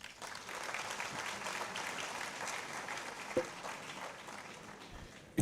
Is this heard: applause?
yes